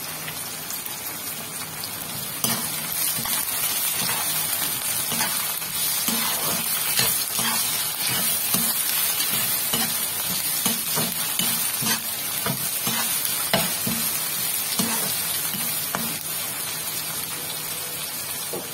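Onions sauté in a pan for a dried-fish thokku masala, giving a steady crackling sizzle like rainfall that keeps an even level throughout, with faint intermittent stirring.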